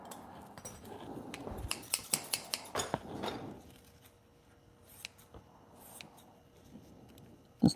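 Freshly sharpened scissors being tested by hand, a rapid run of crisp metallic snips followed by a few quieter, scattered clicks and handling sounds, close and alone.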